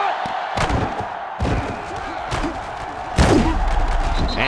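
Stadium crowd noise in the NCAA Football 2005 video game, during Duke Blue Devils vs North Carolina Tar Heels, swells as a dense roar, punctuated by several sharp thumps and bursts of cheering.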